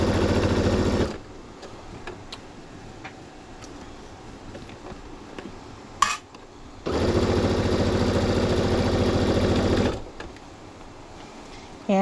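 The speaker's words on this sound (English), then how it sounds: "And I'm sewing a 1/4 inch seam." A sewing machine runs a quarter-inch seam on king-sized quilt binding in two steady bursts, with a quiet pause and a sharp click between them, loud and close.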